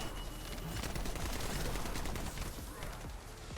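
Rapid weapon gunfire from The First Descendant video game, a dense continuous burst of shots with explosive crackle filling the whole stretch at moderate loudness.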